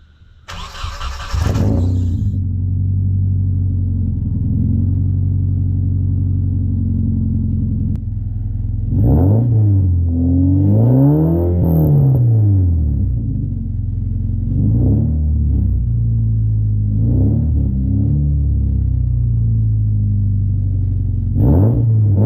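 A Nissan 240SX with a KA engine cranks and starts, then settles into a deep, steady idle with several throaty revs rising and falling, loud and close.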